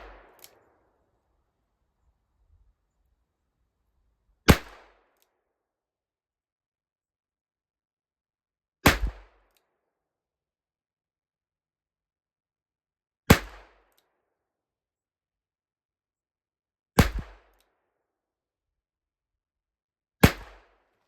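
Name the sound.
Rossi M518 .22LR revolver shots fired from a bench rest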